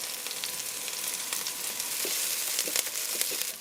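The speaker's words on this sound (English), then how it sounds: "Now we're gonna add our Karapillay or curry leaves." Curry leaves tossed into onions frying in hot oil give a steady, close crackling sizzle with sharper pops and spits scattered throughout, for Trinidad-style geera chicken necks.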